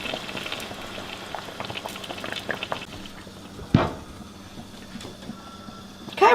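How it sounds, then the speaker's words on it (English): Broth boiling hard in a pot as it cooks down into gravy, a steady close bubbling hiss with a sharp clink partway through. "you can see we're boiling it good"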